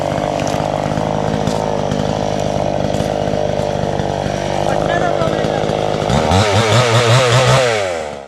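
A chainsaw roars steadily through the trunk of an old cashew tree, 30 to 40 years old, in a cashew orchard, loud and close. Near the end the engine pitch climbs and wavers as the cut finishes.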